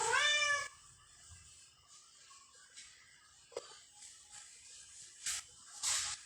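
A cat gives one loud, drawn-out meow up close, followed by quiet rustling and a few faint, brief sounds.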